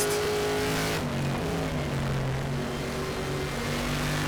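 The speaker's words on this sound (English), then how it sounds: "let you guys just listen to the raw V8" Race car V8 engine in the racing game Raceroom, a loud continuous harmonic drone whose pitch steps and shifts as the car accelerates and changes gear, with no talk over it.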